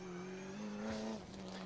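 A race car runs on the Auburndale Speedway oval in Florida, its engine giving a loud, steady droning tone that swells and dips slightly over a short stretch, with no talk.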